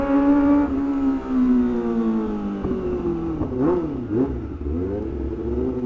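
Motorcycle engines rev close by, the pitch falling, then several quick throttle blips rise and drop in the middle before settling into a steady drone.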